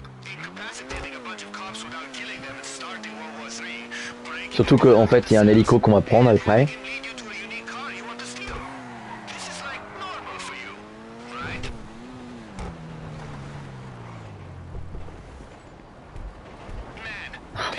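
A car in GTA drives with a continuous engine drone that rises and falls, and a loud tire skid squeals for about two seconds partway through. People talk casually over it.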